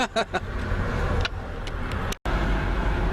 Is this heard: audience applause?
no